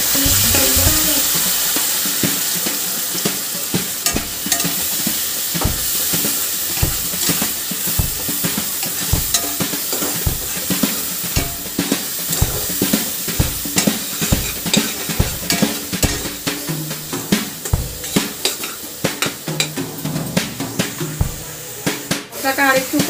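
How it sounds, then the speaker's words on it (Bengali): Masala paste fries with red-fried onions for a prawn dish, loud continuous sizzling punctuated by rhythmic spatula scrapes and stirring clatter throughout, with a person talking over it. "পেঁয়াজটা ভাজা হয়ে গেছে লাল করে, এবার আমি মশলার পেস্টটা এর মধ্যে দিয়ে দেব।"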